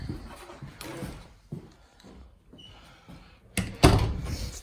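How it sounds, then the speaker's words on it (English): A door pushed shut inside a multi-storey house under structural inspection, one solid thud landing near the end after quieter rustling and footsteps. "So close this door."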